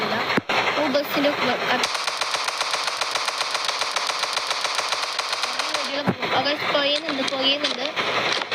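In the Indian Bike Driving 3D game, rapid automatic gunfire is aimed at a bus, a fast unbroken rattle of shots lasting several seconds, with someone talking before and after it.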